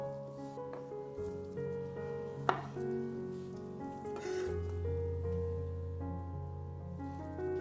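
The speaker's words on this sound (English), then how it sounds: "Cut the tomatoes in half." A knife slices cherry tomatoes in half on a cutting board, giving a few soft, separate cuts under steady background music.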